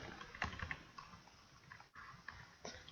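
Irregular clicks of someone typing answers on a computer keyboard, in short quick bursts close to the mic, no talk over it.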